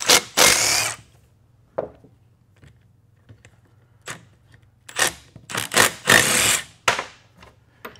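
Milwaukee cordless impact driver running in short bursts, loud rattling hammering whirs of about a second or less separated by pauses, close by in a garage while a transmission is serviced.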